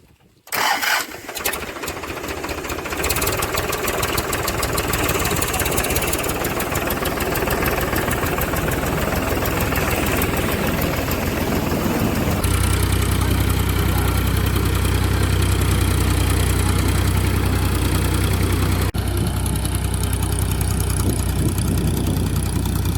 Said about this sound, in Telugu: మొదటిసారి మన పొలాన్ని రోటోవేటర్ వేసుకొని ట్రాక్టర్తో దున్నబోతున్నాం